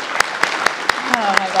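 A brief burst of audience applause at a scholarship breakfast: sharp, evenly spaced claps ring out close and loud, with voices murmuring underneath.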